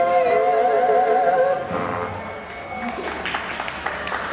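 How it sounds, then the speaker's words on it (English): Airshow audience at New Garden applauding singing performers after a song, a steady wash of clapping following a sustained final sung note, with a voice speaking over the fading applause. "they're still applauding for us"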